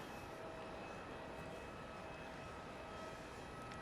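Aircraft landing on the runway at Melbourne Airport, a faint distant steady roar of engine and rollout noise with no distinct events, constant rumble throughout.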